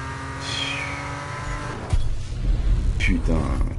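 A car engine revs hard in the Need for Speed racing game while drifting, with rising and falling engine pitch and brief tire squeals, and someone talks over the game sound.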